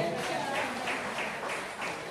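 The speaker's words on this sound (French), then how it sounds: "Applaudissez un peu Jésus, alléluia" A church congregation at a worship service applauds in a continuous, fairly loud wash of many hands clapping together, holding steady throughout.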